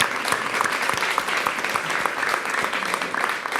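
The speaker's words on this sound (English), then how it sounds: "Another round of applause for Caroline." Sustained audience applause at a children and cancer event. Dense, steady clapping fills the whole stretch at an even loudness, with no talking over it.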